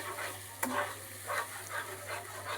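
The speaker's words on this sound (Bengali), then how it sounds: "এবার মশলাটাকে আমি ভালো করে কষিয়ে নেব গ্যাসটাকে আমি একটু বাড়িয়ে দিলাম মশলাটাকে ভালো করে কষাবো খানিক্ষণ ধরে" Spice masala sautés in a pan over raised gas heat, a soft steady sizzle with a few scraping stirs at regular intervals, faint and close.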